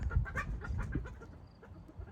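Chickens and a very small bantam rooster clucking on a homestead, soft scattered clucks and short calls at close range, fairly quiet with no talking.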